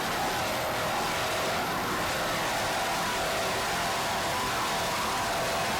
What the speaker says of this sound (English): these United Racing motors are responding quite nicely